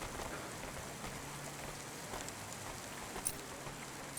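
Steady rain falling in the video game Cloudpunk, a continuous soft hiss of drops on surfaces with a couple of faint higher ticks near the end, no voices.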